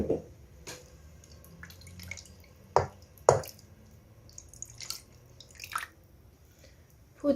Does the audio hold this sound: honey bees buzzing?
no